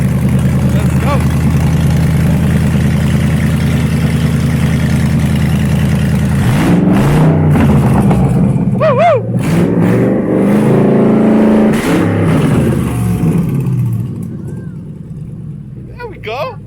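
A Ford Coyote 5.0L V8 mounted on a pallet stand idles loudly, then is revved hard in several sharp bursts before settling, with people shouting and cheering over it.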